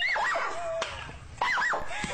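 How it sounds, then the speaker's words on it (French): A jump-scare screamer effect bursts out twice in quick succession, shrill wavering screams with sharp hits, loud and close, shown with dog footage in a special on police training and a shot Staffordshire dog. "le petit effet screamer là qui arrive comme c'est ça"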